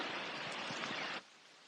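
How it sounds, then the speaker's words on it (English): Steady rain falls during a city walk toward Ueno in Tokyo, a soft continuous hiss of drops that suddenly drops away to near silence. "the rain is not doing too good now"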